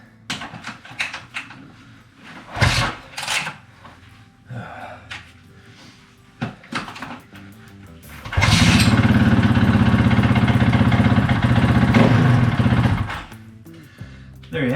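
A KTM 450 EXC-F dirt bike is kickstarted after a few hard kicks and thumps, then its engine roars loudly and steadily for about five seconds before cutting off, with brief talk heard earlier.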